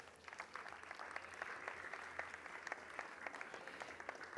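Steady applause from an audience, a dense wash of many hands clapping at a constant level for several seconds.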